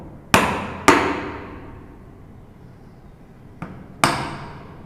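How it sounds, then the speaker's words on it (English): Chisel struck with a mallet while chopping wood for a dovetail joint on a tissue box, four sharp percussive blows in two pairs with ringing decay, close and clear with no talking. "So when you're chiseling or when you're chopping"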